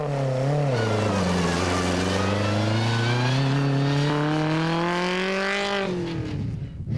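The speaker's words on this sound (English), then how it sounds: "with cars setting off at 1-minute intervals" A rally race car pulls away from the start line of the Diamond Route 200 in 2011, its engine revving hard and climbing through the gears in one long, loud, close roar that cuts off sharply at the end.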